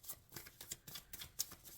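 Tarot cards being shuffled by hand during a reading, heard as a quick run of soft, papery riffling flicks and taps, close but faint, with no voices.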